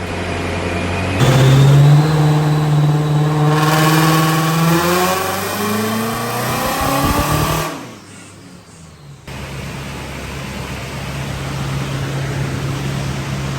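An Alfa Romeo 105 fitted with a Ferrari engine runs hard on a dyno, revving and holding a loud steady drone before cutting off, leaving a lower continuous hum and fan noise.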